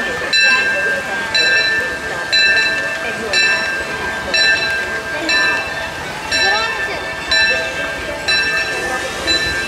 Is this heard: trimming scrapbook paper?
no